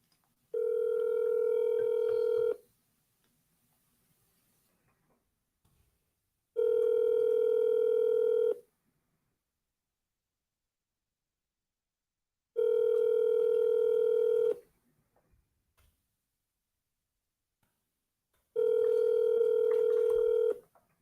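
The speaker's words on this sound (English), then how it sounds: "Hit him back one more time with the double dial" A telephone handset redials a number on a sales call, giving four evenly spaced bursts of steady dial-type tone about two seconds long, separated by several seconds of quiet, clear and close with no voices.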